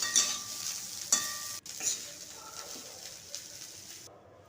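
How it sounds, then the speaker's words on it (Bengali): Broccoli frying in a pan over a medium flame while being turned, with a steady close sizzle broken by a few sharp scrapes and clacks of a spatula. The sound fades out near the end. "মিডিয়াম ফ্লেমে ব্রোকলিগুলোকে উল্টে পাল্টে ভেজে নামিয়ে নেব"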